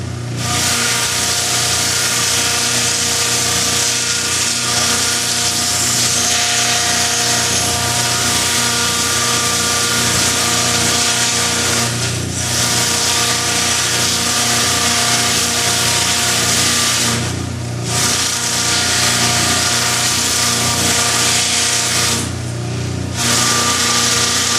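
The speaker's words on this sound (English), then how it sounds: "Got my flap sander here. I'm going to very gently go over this." A flap sander grinds steadily over a buffalo skull horn, a loud, continuous high whine with a constant pitch that dips briefly a few times as the disc eases off the surface, with no talking.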